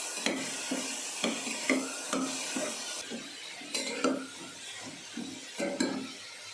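A spoon stirs tomatoes in a hot, sizzling pan for tomato bath, with rhythmic scraping and clinking strokes against the pan close up.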